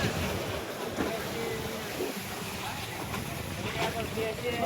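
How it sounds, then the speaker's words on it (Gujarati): Sea waves washing in at a beach in Diu, a steady broad rush with wind buffeting the microphone, continuous and fairly close throughout. "આવી રીતના છે ને મિત્રો મોજા આવે છે"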